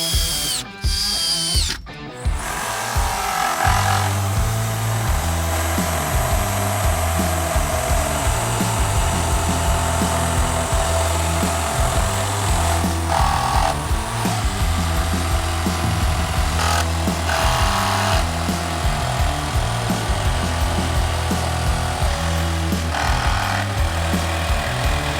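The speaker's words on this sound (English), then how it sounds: "Going to chuck some screws in as well and see how this can cope cutting all the way down here," A Bosch jigsaw fitted with a multi-material blade saws through pallet wood and embedded screws, a loud steady rapid buzz running nearly the whole time after a brief start, with no talk.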